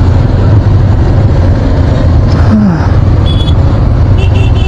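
Road traffic on a motorcycle ride in Hinjewadi, a loud constant engine and road rumble with wind, a brief passing whine and faint horn-like tones near the end, recorded close on an action camera microphone.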